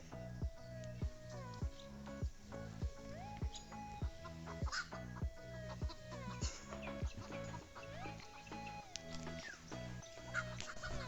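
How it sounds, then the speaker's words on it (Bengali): A village chicken clucks in a rapid, rhythmic series of close, fairly loud calls, flustered as someone tries to catch it, with barely any other sound. "নুমান মুরা ধরার চেষ্টায় আছে এখনো"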